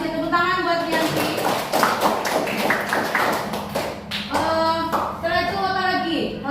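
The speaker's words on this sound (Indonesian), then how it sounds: "tepuk tangan buat Yanti" A small classroom group claps for a student, rapid close hand claps in two bursts, with a voice talking between and after them.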